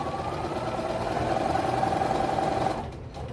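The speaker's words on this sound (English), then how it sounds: "So now I'm sewing" Sewing machine stitching fabric scraps together, a steady close mechanical whir that runs continuously and then stops near the end.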